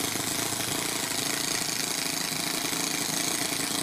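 Toyan FS-S100A miniature four-stroke engine running: a steady, rapid, loud mechanical chatter, close and continuous, no talking.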